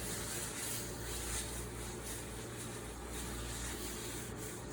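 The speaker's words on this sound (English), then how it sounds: "And get all of that residue off and get that clean." Steady scrubbing and rubbing as acrylic residue is cleaned off a work table used for acrylic surfaces, a continuous faint broadband swishing with no pauses and no talk.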